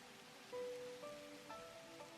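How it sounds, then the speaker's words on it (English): Rain from rain clouds in the game The Universim falls as a soft, faint, even hiss, with a few brief chime-like tones drifting over it. "I'm going to throw a couple of rain clouds over it just to build it back up"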